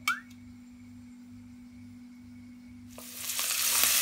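Cooking oil sizzles in a pan, a faint quiet hiss under a steady hum that swells into a loud, bright sizzle for the last second.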